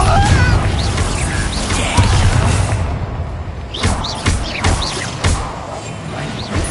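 Confringo blasting curse impact in Hogwarts Legacy combat: loud crashing blasts and thudding explosions roll through, with sharp repeated hits in the second half over a steady rumbling background.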